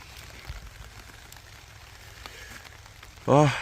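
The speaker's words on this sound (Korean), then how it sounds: "비가 오니까 운치는 좋은데" Steady rain falling through a day-long spell at a rural mountain farm in Hongcheon, a soft continuous hiss, fairly quiet and distant, ending with a brief louder tonal burst at the close.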